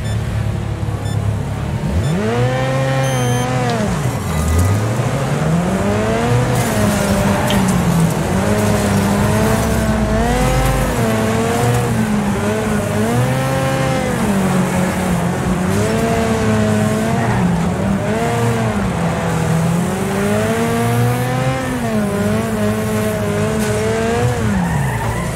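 A race car in the Wreckfest video game on the Torsdalen circuit, its engine loud and close, revving and shifting constantly while the tires squeal through corners, with no speech over it.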